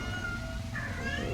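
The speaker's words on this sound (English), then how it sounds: "Hey, kitty." Cat meowing in the game Hollow Knight: one drawn-out mew over a constant low rumble, followed by a second brighter, upward-bending call near the end, with no voices.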